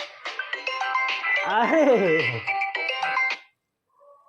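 A phone ringtone plays as a tonal melodic jingle for about three and a half seconds, with a voice speaking briefly over it before it cuts off.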